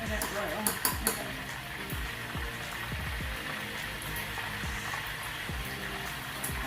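Chicken wings frying in about a quart of oil, a steady bubbling sizzle throughout, with utensil scrapes and clacks against the pot as they are stirred off the bottom, close and continuous.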